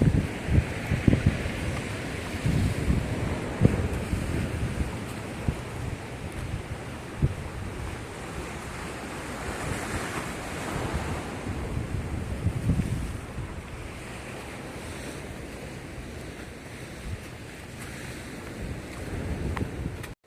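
Sea waves washing onto the black sand beach of Cijin Island, a steady roar of surf with wind buffeting the microphone and occasional louder breaking surges.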